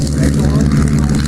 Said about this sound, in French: c'est un avion de BD, l'Aéro 45